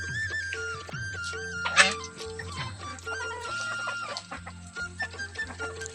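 Pet chickens and ducks kept at home cluck and chatter close by, with repeated soft clucks and an occasional sharper squawk over a quiet background.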